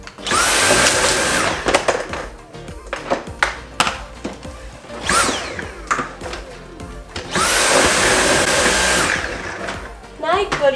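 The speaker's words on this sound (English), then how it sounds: "You've never seen someone vacuum their desk before?" A vacuum cleaner on a bedroom desk whirs in two strong, roaring bursts, one at the start and one near the end, with clatter and softer rustling in between.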